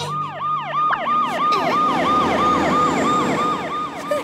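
A cartoon fire truck's siren wails in rapid repeating up-and-down sweeps, loud and close, with vehicle rumble underneath and no talking.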